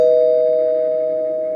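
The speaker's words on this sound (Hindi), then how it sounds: "जब ही उनके गेट की डोरबेल बजी" A steady electronic doorbell chime at a gate rings continuously, clear and fairly loud, holding a single pitch throughout with no voices.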